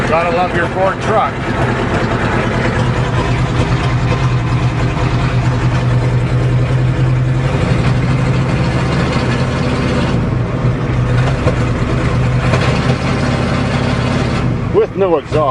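A Ford truck running with no exhaust after being revived from a winter stall idles loud and close, a steady harsh rumble throughout, with a voice briefly over it near the start.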